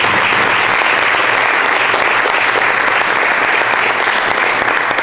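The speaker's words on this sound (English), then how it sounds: "So big round of applause" Loud, dense applause from a large audience at a women's basketball press conference in Evansville, sustained and steady for the whole stretch.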